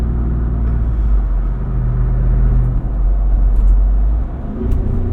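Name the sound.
2024 Jeep Wrangler Rubicon 392 engine driving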